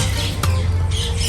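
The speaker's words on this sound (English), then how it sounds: "this is a toucan" A toucan in a St. Maarten bird park gives a harsh, raspy, continuous squawk with one sharp snap partway through, loud and close over a low steady hum.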